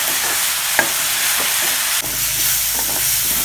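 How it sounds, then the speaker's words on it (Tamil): Pirandai and tomatoes sauté in oil for kuzhambu, a loud, dense sizzle filling the pan with occasional soft scrapes and knocks of a stirring spoon, close up with no voices. "இன்னும் கொஞ்சம் நேரம் நல்லா வதக்கணும்"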